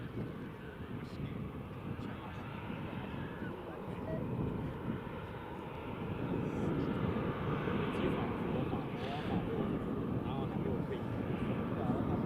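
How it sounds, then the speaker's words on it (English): A Diamond DA42 or DA62 light twin-engine aircraft arriving at Glasgow Prestwick Airport, its steady engine drone building louder over about twelve seconds against outdoor wind noise. "Got a Diamond DA, I think 42 or 62 just coming in now"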